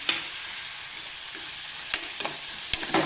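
Tempering for idli upma sizzling in a pan while being stirred, a steady bright hiss broken by a few sharp spatters and scrapes of the spoon near the end, close and without talk.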